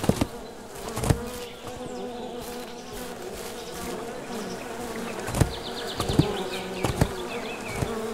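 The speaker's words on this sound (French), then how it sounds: "Moi j'entends des bruits de mouches partout" Flies buzz all around in a forest in the Siren Head: Resurrection video game, a continuous droning hum with occasional louder passes and scattered thumps.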